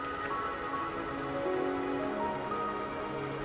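Steady rain patters on a surface in the video game Wuthering Waves, a constant even hiss of drops with faint tonal music underneath.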